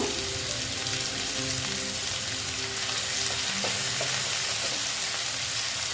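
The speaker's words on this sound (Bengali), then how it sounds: "আলু আর পেঁয়াজ একসঙ্গে ভাজা হোক" Potato and onion pieces fry together in a pan with turmeric for a Bengali bata fish curry, a continuous dense sizzle with occasional stirring clinks throughout.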